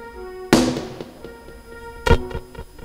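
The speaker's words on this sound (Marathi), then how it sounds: "आत्ताच फटाके वाजू नका." Two sharp firecracker bursts, the first loud with a short crackling tail, the second a few moments later followed by smaller pops, set against a faint tonal hum at a devotional gathering.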